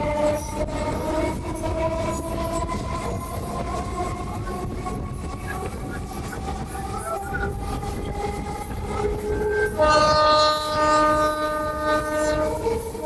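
A Howrah to Amta local train rolls through a station without stopping, a loud, close rumble of wheels and carriage noise with sustained horn tones, the horn growing louder and brighter near the end.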